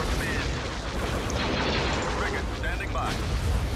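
Continuous shooting and booming blasts from a space battle in Star Wars Empire at War, a dense loud wash of fire and explosions throughout.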